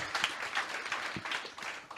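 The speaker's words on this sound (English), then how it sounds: "Please give a big round of applause for Hot, Not Hot" A studio audience claps in a steady patter of applause that continues for a couple of seconds at moderate loudness, with no voices standing out.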